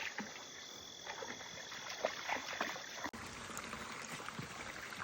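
A small stream flows over bedrock, a faint steady trickle and babble with light splashes, no voices.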